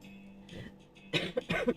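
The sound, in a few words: cough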